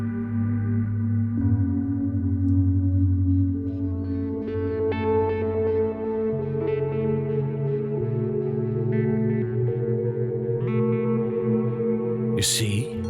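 An ambient electronic spacemusic track plays alone, with sustained layered synth tones and shimmering echoes shifting slowly across thirteen seconds, ending in a brief bright swish.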